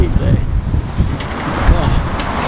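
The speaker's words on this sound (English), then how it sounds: "It's so windy today." Gusty wind blowing outdoors in a public place, a steady broadband rush buffeting the microphone throughout, with some speech mixed in and faint passing traffic in the background.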